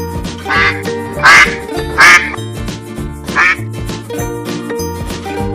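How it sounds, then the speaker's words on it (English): Cartoonish duck quacks, four loud bursts spaced about a second apart over a steady musical backing in a children's alphabet phonics lesson. "D is for duck."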